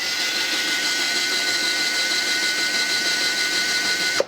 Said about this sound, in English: So you'll hear the motor run again.